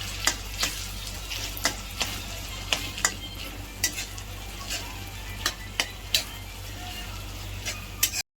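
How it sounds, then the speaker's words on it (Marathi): Tomatoes and onions sauté in a pan for a Makar Sankranti mixed vegetable dish, giving a steady sizzle broken by regular sharp taps and scrapes of a stirring spoon against the pan. "आपण त्यामध्ये टोमॅटो घालूया। टोमॅटो परतून घेऊया।"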